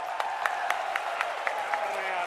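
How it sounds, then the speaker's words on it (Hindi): Applause from a crowd at a political rally stage in Morena, India, welcoming Priyanka, a steady dense patter with sharp claps standing out, sounding under a loud amplified voice. "एक बार प्रियंका जी के लिए जरा जोरदार तालियों से उनका स्वागत करें।"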